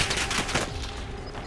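Rapid bursts of gunfire in a battle royale shooter, a dense crackling volley over the first half second that fades into a steady busy game din with no voices.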